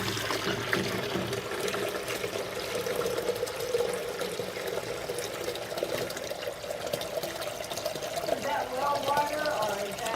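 Three quarts of water pour steadily into a container for about ten seconds, a continuous splashing trickle at moderate level, with a voice talking over it.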